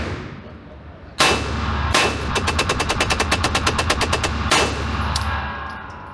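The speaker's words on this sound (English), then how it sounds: "The gun so far is shooting incredible." A Watchtower Apache rifle fitted with a silencer fires outdoors: two single shots, then a rapid string of about a dozen evenly spaced shots, then a final shot, each sharp and loud with a ringing tail.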